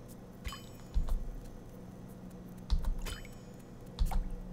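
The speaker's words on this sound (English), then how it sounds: "Drip noises." Water drips in The Path game, three sharp, wet plinks spaced a couple of seconds apart, each with a short echoing tail over a low, quiet ambient hum.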